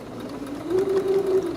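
A sewing machine stitching with the needle down, a soft, steady mechanical whir that rises into an even motor hum partway through, close and fairly quiet, alone without speech.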